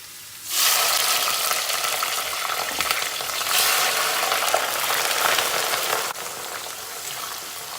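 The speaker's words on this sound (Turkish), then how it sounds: "Yüksek ateşte biberleri kızartma işlemine başladık." Loud, steady sizzling of peppers frying in hot oil over high heat, a dense crackling hiss that starts abruptly and continues throughout with no voices.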